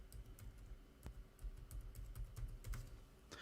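Soft typing on a computer keyboard fills the background as a faint, irregular patter of key clicks with small pauses, with no voices.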